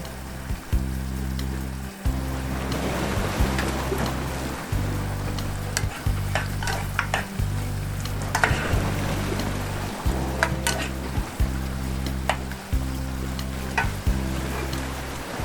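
Tomato paste and rosemary sizzling in a pan on a stove aboard a boat, a steady loud frying hiss with utensil scrapes and stirring taps recurring through it and a low rhythmic hum beneath.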